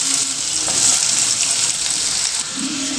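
Two large onions frying in hot oil for a chicken kulambu curry, a steady loud sizzle and crackle, close up, with no talking.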